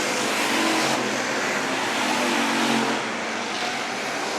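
Hobby stock race cars roar down the front straightaway at Worthington Speedway, a loud, dense wall of engine noise from several cars passing close together, with a brief dip as they sweep by.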